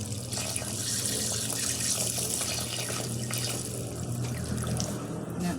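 Tap water runs steadily and loudly into a sink while herbal leaves are washed, a continuous broadband splashing rush with no voices over it.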